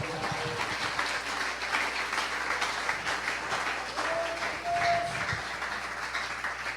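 Churchgoers at a Spanish-language worship service applaud the Lord, a sustained, fairly even clatter of many hands lasting several seconds, with some voices and faint tones mixed in.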